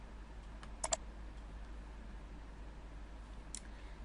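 A computer mouse clicks softly in a quiet room while an online exam is being set up: a quick double click near the start, then one more single click a few seconds later.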